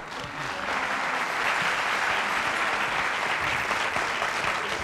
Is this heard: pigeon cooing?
no